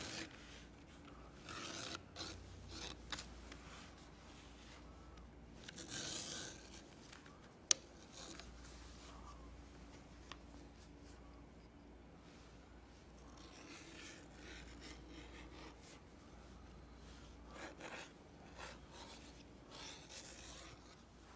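An edge beveler is drawn along the edge of 6 to 7 ounce leather, making soft, close scraping and rubbing strokes. The strokes repeat with short pauses in a quiet room, with one sharp tick.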